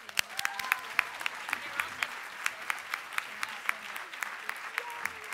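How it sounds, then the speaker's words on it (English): The audience at an award ceremony applauds with scattered, distinct claps close by, while voices murmur underneath. "We tonight applaud the Massachusetts Convention Center Authority, and congratulations, Colleen."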